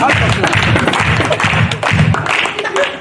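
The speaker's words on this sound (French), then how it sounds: "Alors applaudissez très fort pour moi." A theatre audience at a storytelling performance applauds loudly, a dense wash of clapping that continues under voices and shouts.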